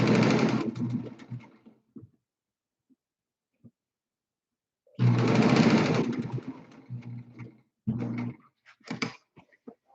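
Sewing machine stitching a double seam on millet-filled pillows, running in short rapid bursts: a long run at the start, another mid-clip, then brief stop-start stitches, with quiet pauses between.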